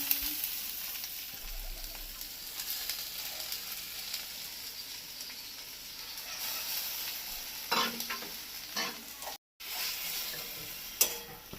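Onions fry in a pan with poppy seed paste, giving a soft, steady sizzle with occasional scraping stirs and faint clicks throughout, fairly quiet and close, with no voices.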